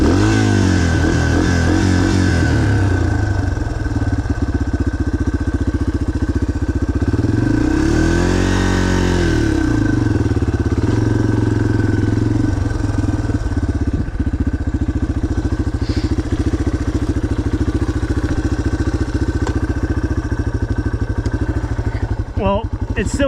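A dirt bike engine running nearby during a riding lesson, idling with a steady rumble and a couple of rising revs and dips, with brief talk over it.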